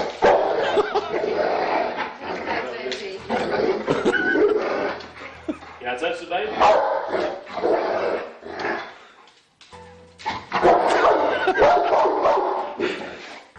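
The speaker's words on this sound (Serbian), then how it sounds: "sprečava u tome pas koji laje i reži" A dog protecting a pregnant woman barks, growls and whimpers in repeated close bursts, mixed with talk from people nearby and a short pause near the end.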